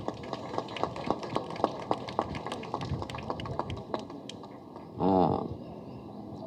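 Audience clapping at a film first look launch event for Fighter Raja, a steady roomful of hand claps running for several seconds, then a short louder burst near the end.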